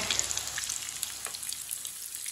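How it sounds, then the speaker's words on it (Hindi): Egg and oat kebabs frying in oil in a pan, a steady close sizzle with light crackles and spits, heard alone at a moderate level. "कबाब हमारे दोनों साइडों से फ्राई हो चुके हैं"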